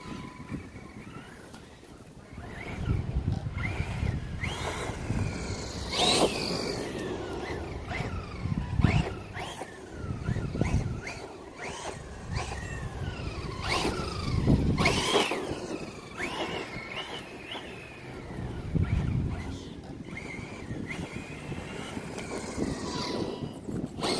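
A ZD Racing Pirates 2 RC car running a 4S battery with a 120A ESC whines as its motor revs up and down repeatedly, with tire and gravel noise and wind, fairly close and steady.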